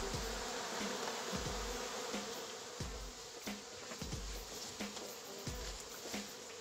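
Wild bees buzz steadily around a hive box set out to catch a swarm, with a continuous close drone and intermittent soft knocks repeating throughout.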